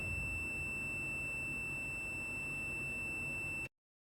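A multimeter gives a continuity tone on a repaired circuit board track: one steady, high, thin beep held for over three seconds, then cut off abruptly.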